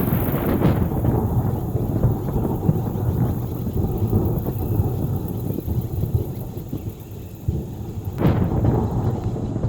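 A thunderstorm breaks over a cave in Kenya's Rift Valley after months of drought: steady heavy rain hisses throughout, and deep thunder rumbles roll in near the start and again near the end.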